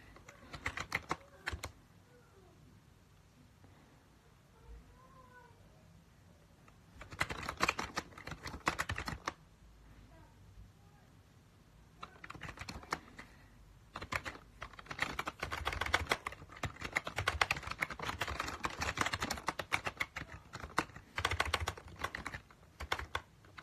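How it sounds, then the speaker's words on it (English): Bursts of fast typing on a computer keyboard, dense clattering keystrokes in several runs separated by quieter pauses, fairly faint and close, with no speech. "I type very good, like, I type maximum words a minute."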